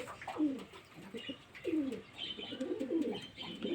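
Several pigeons cooing nearby in soft, rolling, repeated calls, with faint chirps in the background.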